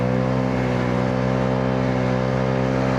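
A tuned Honda Giorno 125 scooter engine holds a steady, loud drone with strong low harmonics, sustained at high revs for the whole stretch with no talking.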